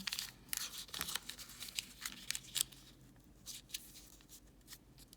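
Paper being folded into a fish craft gives soft crinkles and brief rustling creases, quiet and close, coming in irregular bursts with no talking.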